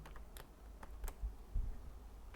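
Alt and Enter keys pressed on a computer keyboard while filling in an Excel spreadsheet: several sharp, close plastic clicks spaced unevenly over a low steady background hum.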